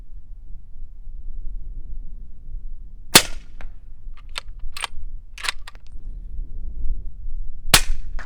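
Two loud, sharp shots from a 300 Blackout rifle firing handloaded 150 grain Hornady full metal jacket rounds outdoors, a few seconds apart, with faint clicks of handling between them.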